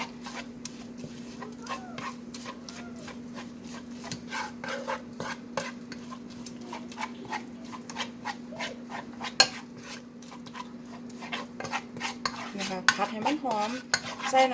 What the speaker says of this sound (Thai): ผัดให้มันหอมซื่อๆถ้าลงเอาไปใส่พริก พริกแกงใส่กะทิอ่ะนะ